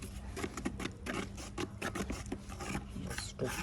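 Epoxy flooring compound being stirred and mixed, a close, rough scraping rasp repeating in quick uneven strokes, loud and steady with no talking.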